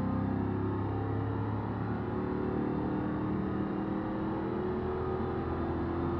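A car with a tall-geared 4-speed automatic climbs hills in BeamNG.drive, its engine giving a steady, continuous low drone with no speech over it.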